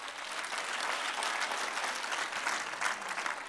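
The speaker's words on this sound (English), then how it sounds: "Let's give the Lord a hand clap of praise." A church congregation claps in praise, a dense, sustained burst of many hands that stays fairly loud and even for a few seconds.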